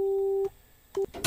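A public payphone gives a busy tone after a call cuts off: one long steady beep, a pause, then a shorter beep, followed by a brief burst of noise.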